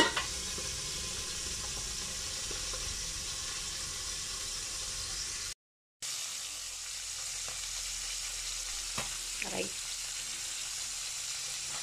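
Tuna frying in a pan for a home-style sarsyado dish, a steady close sizzle and hiss throughout with a short gap midway, then occasional stirring clinks and soft voices under the frying.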